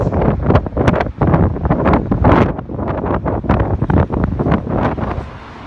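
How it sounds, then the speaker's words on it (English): Strong, wet beach wind buffets the microphone in loud, irregular gusts, with a roaring wash that briefly eases toward the end. "it's a bit too wet and windy to do too much walking today"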